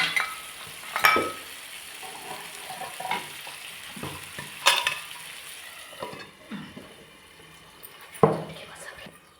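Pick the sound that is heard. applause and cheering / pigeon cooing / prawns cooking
prawns cooking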